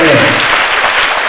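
Dense, loud applause from an audience filling an assembly hall at an Ayurveda katha, continuous and close throughout with no gaps.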